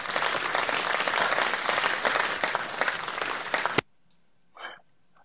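Dense, steady applause during an online call, a continuous wash of clapping that cuts off abruptly, followed by near silence and a brief breathy sound.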